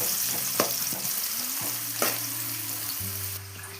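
Chopped onion fries in coconut oil in a pan for a coastal mushroom curry, a steady close sizzle broken by a few sharp clinks of stirring, with no voices.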